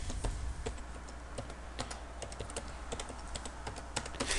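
Steady typing on a computer keyboard fills a spreadsheet entry, a rapid run of close, crisp key clicks over a low constant hum.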